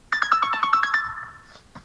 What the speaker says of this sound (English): Is that someone's phone?